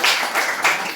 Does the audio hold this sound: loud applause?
yes